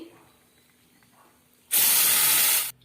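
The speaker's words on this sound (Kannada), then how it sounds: "ಈಗ ಇದೇ ಪಾತ್ರೆಗೆ ಬನಾನಾ ಪ್ಯೂರಿಯನ್ನು ಹಾಕ್ಕೊಳ್ತಾ ಇದ್ದೀನಿ" Banana puree for banana halwa hits a hot pan with a sudden loud, close hiss and sizzle that lasts about a second, after quiet kitchen background, then cuts off abruptly.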